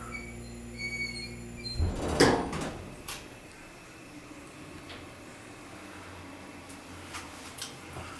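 A faulty Dover elevator door at a high school slides along its track with a loud rumbling thud, then the sound fades into a quiet hum with faint clicks as the car stands by.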